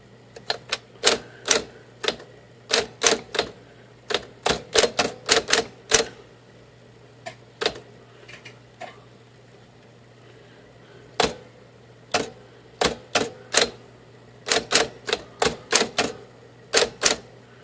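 Keys strike sharply on a pink Smith Corona electric portable typewriter, close and crisp, in irregular bursts of rapid clacks separated by short pauses over a faint steady motor hum.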